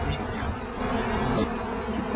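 A steady drone of many bees buzzing close by, continuous and fairly loud throughout.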